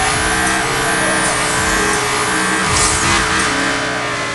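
A drifting car in a mobile racing game on Android, with a loud, continuous engine roar and tire squeal sustained throughout.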